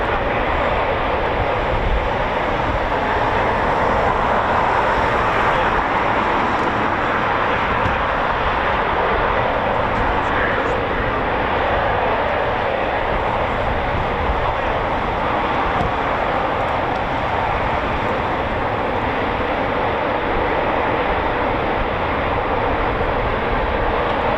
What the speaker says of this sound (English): EJ200 startup.